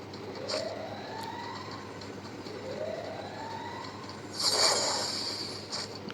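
A video game siren set off by a hunter wails, rising and falling in two slow sweeps, moderately distant, followed by a brief burst of brighter noise.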